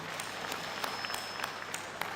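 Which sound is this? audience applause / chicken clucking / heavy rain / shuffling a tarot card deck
audience applause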